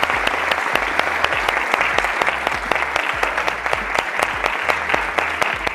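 Applause at a product launch event welcoming a product director, dense steady clapping from an audience for several seconds, no talk over it.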